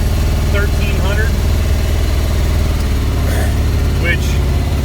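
A gasifier-powered engine runs at high idle around 1,300 rpm, a steady, loud, even rumble throughout with faint chirping and brief sounds over it.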